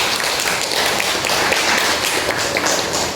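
A classroom group applauds after a student poster presentation, a dense, steady patter of many hands clapping close by for the whole stretch without pause.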